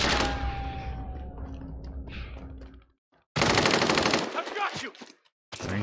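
Video game machine gun fire in long loud sustained bursts, a first stretch fading out, then a second dense burst after a short gap and a final short burst.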